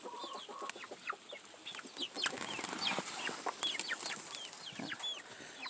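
Baby chicks and turkeys in a farm coop make a dense chorus of high peeps, chirps and soft clucks, fairly close and continuous, with no talking.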